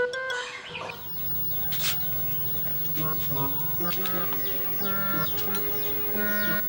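Turkeys cluck and gobble repeatedly at close range, a busy, overlapping chatter of several birds with a steady background din.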